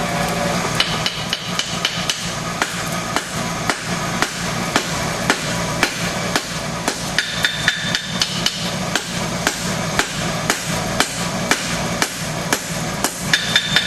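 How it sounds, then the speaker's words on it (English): A hammer strikes steady, rapid blows forging the corners off a metal piece to create a bevel, a continuous close ringing rhythm with no talk. "at this point we're forging the corners off it"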